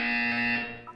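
A buzzer in the game Portal 2 sounds as a loud, steady electronic drone with a harsh harmonic tone for about half a second, then fades out before a short beep follows.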